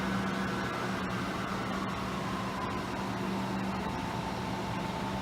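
A Sharp knee mill under Anilam 1100M CNC control, its axis drive whining steadily as the table traces a small box pattern, a continuous moderate mechanical hum with faint clicks.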